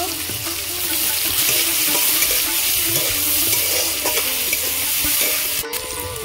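Chopped tomato and green chilli hit a pan of hot oil with cumin, bay leaf and whole garam masala for veg fried rice, giving a close, continuous sizzle with the scrape of stirring throughout.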